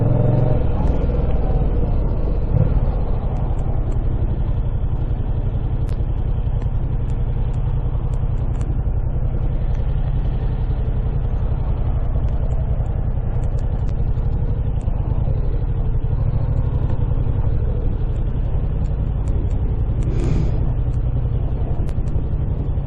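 A 2019 Yamaha MT-07 motorcycle engine drones steadily while riding, a loud continuous low rumble mixed with wind buffeting, with a rider's voice faintly underneath.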